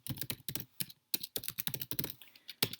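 Fingers tap quickly at a computer keyboard while a command is entered into an Ubuntu server terminal, a close run of crisp, uneven key clicks with a short pause midway and no voices.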